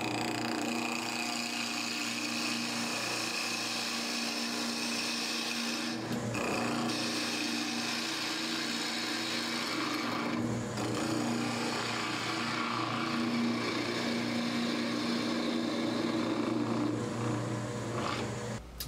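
A woodturning lathe spins as a tool cuts the corners of a square walnut blank. The cutting noise is close and continuous, with brief pauses and shifts as the tool is repositioned.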